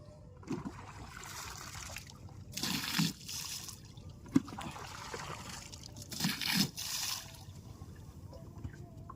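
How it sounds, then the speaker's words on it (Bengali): Water splashing and trickling in bursts as it is poured over a man's head beside a river in the Sundarbans, with several short pours close by over a low outdoor background. "এদিকে দাদা মাথায় জল দিচ্ছে জলটা দিয়ে নাও"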